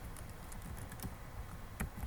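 Quiet typing on a computer keyboard, scattered light key clicks at an uneven pace with a couple of firmer taps, over faint background hiss.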